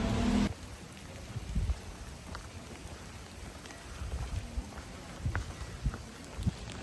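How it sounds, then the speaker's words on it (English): Rain falls during a day out in Kyoto near a restaurant, a steady soft hiss of drops with scattered louder patters and splashes close by, with no voices over it. "I didn't know it was supposed to rain anymore today."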